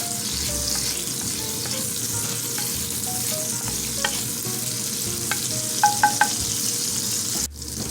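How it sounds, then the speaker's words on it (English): Lemon zest sautéing in melted butter in a pan, a steady close sizzle that runs without a break, with a few light clinks and stirring scrapes near the end. "we're just going to add the zest of our lemon in there. And we're going to saute that for about 1 minute"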